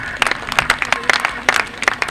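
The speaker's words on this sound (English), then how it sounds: "Round of applause please for Tim Noakes before he collapses." Crowd applause at a motorcycle grasstrack race, a short burst of scattered clapping close by, with a voice partly mixed in.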